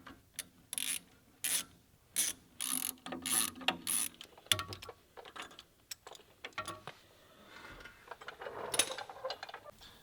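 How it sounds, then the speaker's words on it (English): A ratchet with an M10 triple square socket works loose the axle bolts on a first-generation Porsche Cayenne, giving bursts of rapid clicking with pauses between them, then scraping and rubbing mechanical handling noises. No one speaks. "So sit here, remove them one by one, or you could actually rotate them too."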